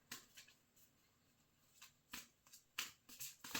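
Tarot cards being shuffled by hand close to the microphone, with crisp papery riffles and slaps arriving in uneven bursts over a quiet background, and no one talking.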